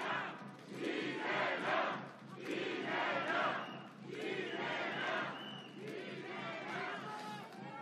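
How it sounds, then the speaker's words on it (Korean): A large crowd at a Korean presidential election street rally in Chuncheon, Gangwon, roars and cheers in swelling waves as the candidate Lee Jae-myung is welcomed, with applause and chanting mixed into the dense noise. "이재명 후보를 힘찬 박수로 모시겠습니다."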